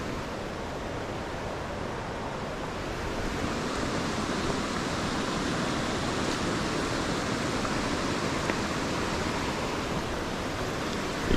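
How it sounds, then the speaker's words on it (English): Rushing water flows steadily at the top of a waterfall in autumn woods, a constant broadband roar with no voices over it. "That there's the top of the waterfall."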